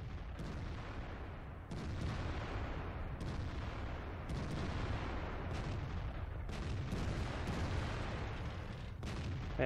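Repeated booming tank gun blasts and explosions in World of Tanks as a tank's ammo rack detonates, heavy low rumbling shots recurring every second or so throughout amid dense battle noise.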